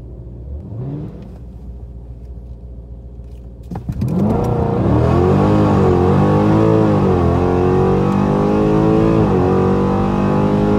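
A modified 5.7 Hemi drag racing a stock 5.0 Mustang at ATCO Dragway: a low idle rumble gives way to a sudden loud launch, then a sustained, roaring, revving engine climbing and shifting through gears.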